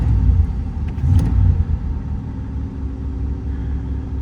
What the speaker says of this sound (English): Still a little faster idle than I want to back up with